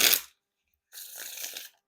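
Warner Brothers 100th anniversary playing cards are riffle shuffled, with a short crisp burst and then a longer fluttering riffle close by and loud.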